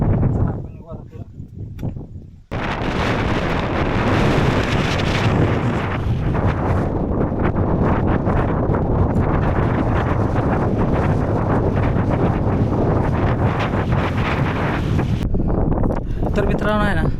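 Strong, cold wind buffets the microphone at Rohida Fort (Vichitragad) near Pune, a dense, continuous roar that starts abruptly after a quieter opening with voices and drops away near the end.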